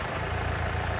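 A tractor engine idles in Farming Simulator 19, a steady low rumble with no talk over it.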